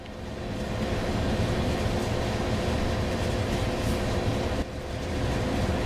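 A train rumbles past in Train Sim World 4, a loud, steady broadband roar with rattling wheels on flat track, briefly dipping near the end before swelling again.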